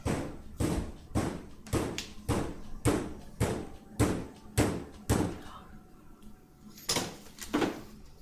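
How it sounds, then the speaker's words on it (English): Someone bangs on a front door in a run of about ten heavy, evenly spaced thuds, loud and close, followed by a short pause and a few more blows, with faint voices underneath. "They're like banging on the door"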